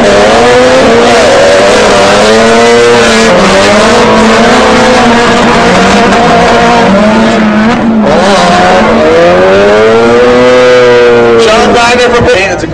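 Drift cars battle at a Formula Drift event in Atlanta, engines revving loudly with rising and falling pitch sweeps and tire squeal, continuous and close throughout while a commentator talks over the action.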